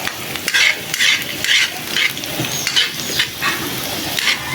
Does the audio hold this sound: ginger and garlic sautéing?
yes